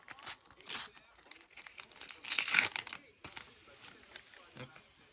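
Crinkling and tearing of a foil Panini World Cup 2026 sticker pack being opened up close, in a few crisp bursts of ripping and rustling.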